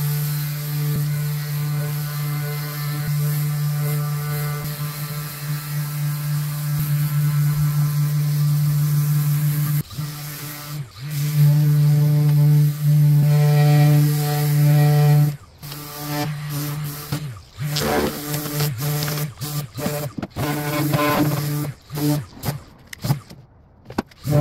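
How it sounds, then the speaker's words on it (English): A Surf Prep 3x4 sander works on a painted desk with 220 grit sandpaper, giving a steady humming drone that cuts in and out several times near the end. "I'm using my Surf Prep 3x4 sander to do this job."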